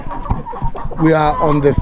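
Hens and roosters cluck and squawk in a poultry house during a morning feeding, loud and close, with several overlapping calls rising into a drawn-out cackle.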